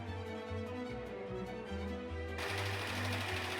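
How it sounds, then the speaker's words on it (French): A serger overcasting the edges of velvet fabric pieces for a quilted pouch, running as a steady fast mechanical whir with a rhythmic needle chatter that grows slightly louder and brighter partway through, close up with no talk. "à l'aide de la surjeteuse ou de la machine à coudre réglée sur le point zigzag"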